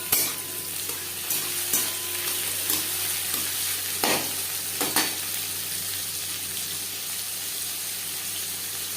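Tomato pieces frying with fried onions in a pan for a Bengali katla fish roe and eggplant chorchori, a steady close sizzle with scattered clicks and scrapes of stirring, no voices.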